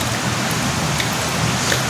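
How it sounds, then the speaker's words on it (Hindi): Heavy rain pours down in a dense, steady hiss, close and loud without pause. "आज हमारे यहाँ हो रही है झमझमाझम बारिश। मस्त बारिश हो रही है"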